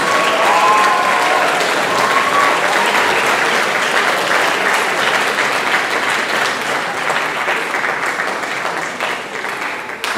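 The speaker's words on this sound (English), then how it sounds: "Everybody give a huge round of applause for these outstanding musicians." Audience at a band banquet applauding the musicians, a dense, loud, sustained roar of many clapping hands that holds steady for about ten seconds before thinning slightly near the end.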